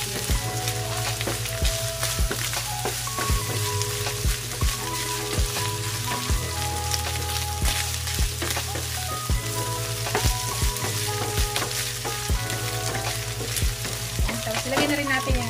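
Ground beef sizzles steadily in a pan as it is sautéed, a dense, loud crackle of frying broken by repeated scraping and clanking of a utensil stirring and mixing, with no one talking.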